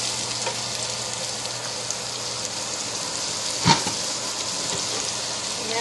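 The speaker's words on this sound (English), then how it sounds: "So now our onions are heating through" Onions frying in a pan for shrimp fried rice, a continuous close hiss and crackle with one brief utensil tap midway, no voices.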